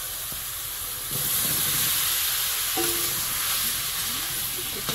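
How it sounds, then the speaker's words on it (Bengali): Taro pieces hit a hot spiced oil mixture in a pan, bringing a sudden jump to a loud, steady hissing sizzle that holds close and constant, with a few clinks. "মশলাটা রেডি হয়ে গেছে, এবার কচুটা দেবো।"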